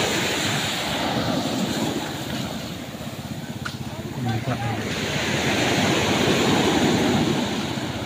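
Rushing water near a riverbank, a broad continuous roar of flowing water mixed with wind buffeting the microphone, steady and fairly loud throughout, with brief voices in the background.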